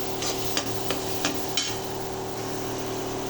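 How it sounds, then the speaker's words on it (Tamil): Vegetables with ginger, garlic and tomato sauté in a pan at home, under a steady low sizzle, while a spatula scrapes and taps against the pan about four times early on. No one speaks. "நல்லா வதக்குங்க"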